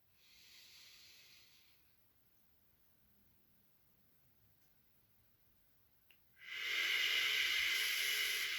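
A person breathing out during meditation: a soft airy exhale near the microphone fading away, a quiet pause, then a louder, longer rushing exhale, with no talking.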